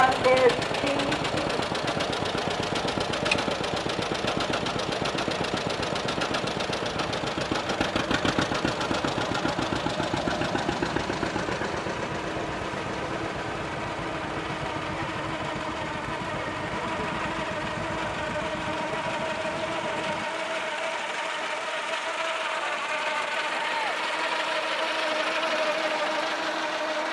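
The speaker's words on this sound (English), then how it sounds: "He's driving his 1930 John Deere GC." A 1930 John Deere GC tractor engine running steadily in an antique machinery parade, a continuous loud mechanical drone with rhythmic knocking that softens partway through.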